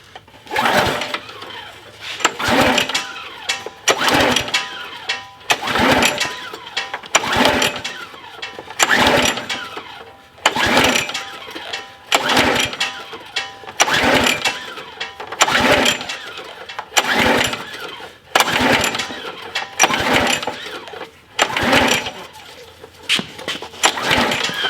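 A log splitter's small engine sputters in short bursts roughly every second or two, weak on spark, loud and close, with brief pauses between each burst.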